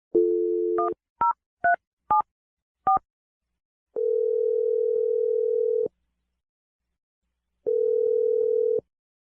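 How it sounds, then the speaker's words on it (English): Telephone tones ring out as a radio show dials a number: a dial tone, several short touch-tone beeps, then longer steady ringback tones with a gap between them, clean and loud with no voices. "I'm gonna dial the number right now."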